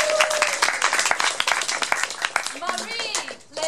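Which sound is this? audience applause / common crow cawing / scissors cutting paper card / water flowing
audience applause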